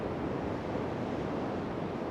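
Ocean surf rolls in at Tres Palmas, a protected reef break in Puerto Rico, as a steady broad wash of breaking waves with some wind rumble and no voices.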